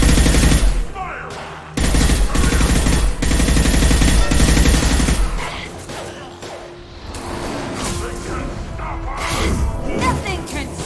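A firefight in Mass Effect 2 brings heavy automatic weapons fire in loud sustained bursts with crashes and whooshes, easing off midway before scattered shots and battle noise return.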